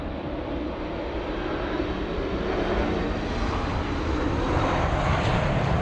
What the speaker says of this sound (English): As we see the French 777.